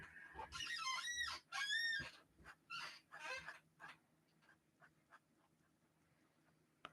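Chickens in a small backyard coop enclosure let out a few loud, close squawking calls, then trail off into quieter, scattered clucks.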